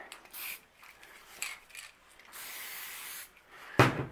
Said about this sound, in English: Spray it along the slide.